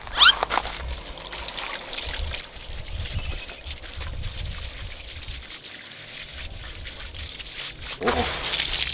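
Water runs and trickles steadily over a doll that spent a month buried in soil, washing the dirt away in a continuous, fairly close splashing stream.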